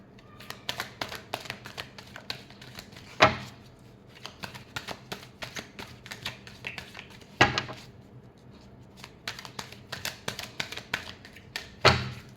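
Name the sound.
shuffling tarot cards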